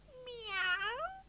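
A cartoon cat gives a single drawn-out meow, rising and falling over about a second, clear and close against a quiet background.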